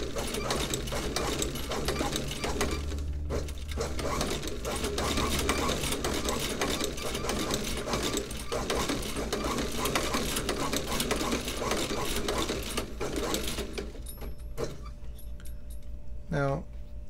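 A sewing machine stitches the leather of an Allen Edmonds Fifth Street boot during restoration, running in a steady continuous rattling whir for most of the stretch, close and loud, with a brief pause and mechanical clicks near the end.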